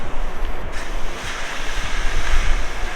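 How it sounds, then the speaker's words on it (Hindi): Bottled river water splashed onto hot car brake rims on a mountain road trip, giving a steady loud hiss and rush of steam and spray that holds for the whole stretch. "हम ये नदी में से पानी भर के लाए हैं सारी बोतल्स में, और बारी बारी से डालेंगे रिम पे।"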